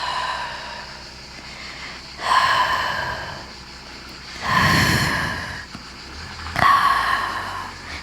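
A person breathes out during a Pilates exercise: three close, breathy exhalations, each lasting about a second, separated by quiet pauses.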